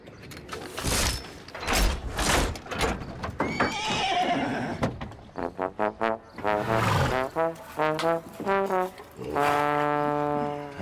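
A pony neighs and whinnies loudly several times in close succession, long shrill calls rising and falling, with a few breathy snorts between them and no talk over it.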